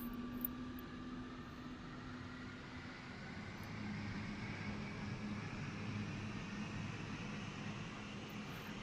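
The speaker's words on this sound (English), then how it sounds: "Comes the right engine." A-10 attack jet in the DCS flight simulator, its right engine spooling up: a steady turbine whine and broad roar that builds gradually and holds loud and even throughout, with no talk over it.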